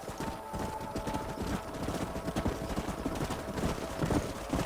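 Horses' hooves clip-clop steadily in a Red Dead Redemption game scene, a dense, continuous rhythm of several animals at a trot over a low rumble, with no talk.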